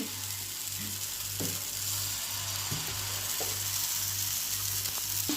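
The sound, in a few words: moong dal batter sizzling in hot oil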